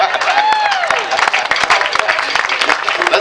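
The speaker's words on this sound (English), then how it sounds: "Let's have another round of applause for our guest conductor, Chris Corey." Band concert audience clapping for a guest conductor, steady close applause from a crowd with a voice speaking over it.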